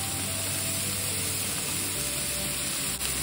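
Cashews and raisins sizzle steadily in a pan, a constant close frying hiss with no talk, in a sweet Indian preparation for nursing mothers.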